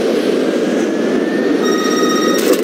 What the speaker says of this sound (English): what you're hearing is the car's short message system